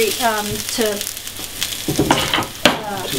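Reconstituted wild mushrooms fry in a hot pan with a steady, close sizzle, broken by a few sharper scrapes and clacks of stirring, with brief tonal sounds near the start.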